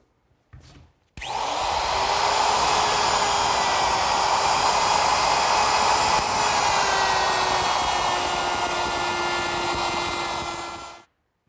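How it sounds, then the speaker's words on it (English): Router fitted with a rabbeting bit cutting a rabbet in wood for a beveled glass cupboard, starting abruptly with a loud steady high-pitched whine, holding for about ten seconds and then stopping. "That's easily done with my router, which is set up with a rabbeting bit."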